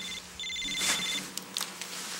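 A telephone rings with a bright electronic warble in an office setting, one ringing burst stopping abruptly, followed by a few soft clicks and handling sounds.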